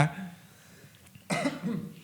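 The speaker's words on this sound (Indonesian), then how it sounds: "Saya batuk Pak sebentar ya." One or two short, rough coughs close by, separated by a quiet pause, with no other talking.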